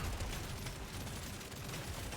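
Engineer turrets firing in DRG Survivor, a steady rapid stream of gunfire mixed into dense, noisy game action, fairly faint and continuous throughout.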